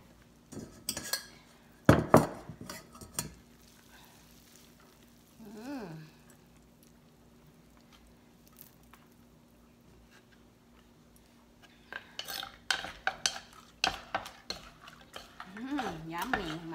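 Noodles go into a Thai spicy noodle salad with shrimp paste and are tossed with utensils, giving close clinks and scrapes in bursts, with quieter stretches between them.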